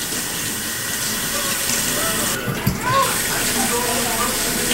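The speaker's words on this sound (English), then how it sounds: "And then I'm going to wash my hands." Running water flows steadily from a tap as hands are washed in a sink, a close continuous hiss with brief splashes partway through.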